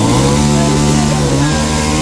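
A chainsaw cuts into a large mango tree, its loud, close engine holding a steady, unbroken drone throughout with no pauses or talk.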